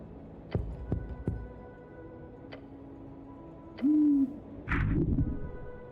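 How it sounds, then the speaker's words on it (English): In the video game Esoteric Ebb, a bird gives one short, owl-like hoot, preceded by scattered sharp ticks and followed by a brief rustling burst. "Bird."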